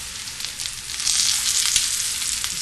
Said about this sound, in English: I'm going to sear them on each side. So we're going to turn them over.